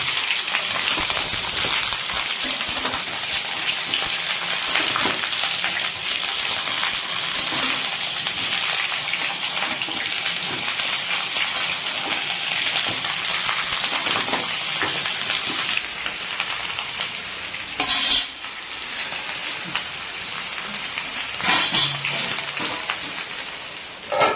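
Eggplant and hilsa fish mixture frying in a pan, giving a steady, loud sizzling hiss that runs throughout with a few brief louder bursts, no voices.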